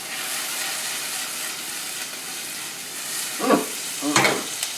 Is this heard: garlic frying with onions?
yes